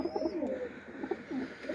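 Pigeons in a dovecote coo repeatedly in soft, rolling calls, close by, with a steady low murmur of several birds together.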